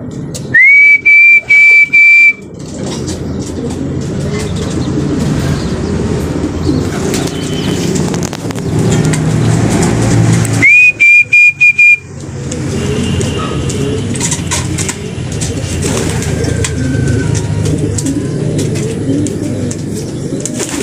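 Racing pigeons return to their home loft at the end of a 74.96 km fun race from Anahawan, Southern Leyte. Bird calls and wing flaps sit over a steady outdoor background, and two sharp, rising whistle blasts cut in.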